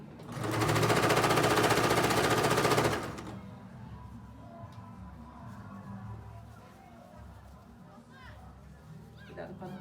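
A sewing machine runs in one loud, fast, steady burst while stitching a ladybug fabric bag, then stops abruptly, leaving quieter handling noises and faint background sounds.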